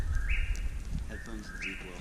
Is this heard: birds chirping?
yes